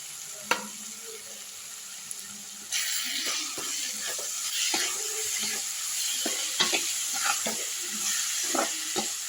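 Onions and curry leaves sautéing in a pan, a soft frying sizzle that rises after a quiet opening, with repeated close scrapes and taps of a spoon stirring, fairly faint overall and without speech.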